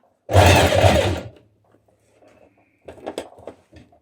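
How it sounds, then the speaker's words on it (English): A sewing machine stitches in the ditch along a trouser waistband, running in one loud, steady burst of about a second. Quieter handling clatter follows. "you're just stitching in the ditch on the outside"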